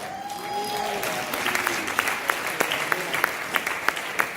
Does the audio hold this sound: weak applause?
yes